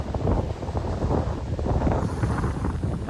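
Strong, steady seaside wind buffets the microphone in a continuous low roar, with faint rushing seawater underneath and no voices.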